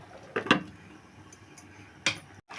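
A metal lid is set onto a pot of kesari bath, giving a couple of close clinking taps, a pause, then another sharp metallic clack before a brief silence.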